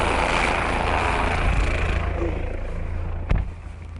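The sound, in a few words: helicopter and car racing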